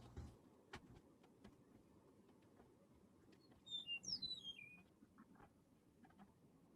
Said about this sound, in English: I heard it. I heard it just then